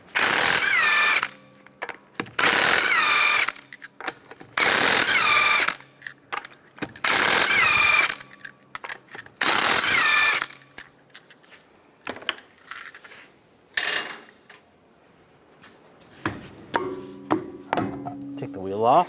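Five loud, close bursts of a power impact tool spinning off car wheel lug nuts with a 19mm socket, each lasting about a second, separated by short pauses and followed by quieter clinks and handling noise.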